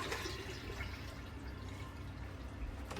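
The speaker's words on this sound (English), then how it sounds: "I estimated I just fill the tank up a little bit." Quiet, continuous water pours and trickles into a boat toilet holding tank, a soft steady gurgling fill heard close with no voices.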